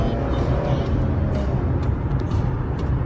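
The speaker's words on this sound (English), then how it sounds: "Engine's got a great sound to it." A 2015 Chevrolet Camaro LS engine hums steadily from inside the cabin at moderate volume with a low, even drone and no talk over it.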